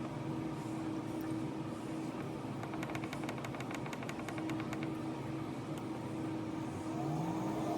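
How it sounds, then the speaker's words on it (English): Lab centrifuge spinning balanced tubes of lysed cells for a His column purification, a steady hum with a sustained whine and mechanical whir throughout, close and continuous, with faint rhythmic ticking midway. "I'm going to take my tubes and I'm going to spin them in a centrifuge, a balanced centrifuge, for 30 minutes"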